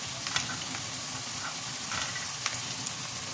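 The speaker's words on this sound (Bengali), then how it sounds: "এবার দিয়ে দেবো পেঁয়াজ। এবার এতে কাঁচা লঙ্কাগুলো দিয়ে দেবো," Chopped onion and green chillies fry in hot oil for a dhaba-style tadka, giving a bright, continuous close sizzle with a few spoon taps and stirring scrapes scattered through it.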